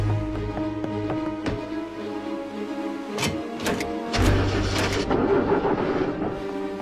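A cartoon boat engine sputters and stalls with its propeller tangled in seaweed, uneven mechanical chugging and clanks building into a louder rough roar near the end, with no talk.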